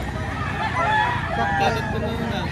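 A White Kelso gamefowl rooster at a gamefowl market in Lipa, Batangas, with a crow that rises from a steady crowd murmur and people talking nearby.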